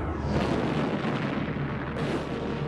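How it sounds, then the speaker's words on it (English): Heavy cannon fire roars in a deep, sustained rumbling boom, loud and close, suggesting gunpowder artillery battering stone city walls, with no voices. "In the end, brick and stone were no match for cannon fire."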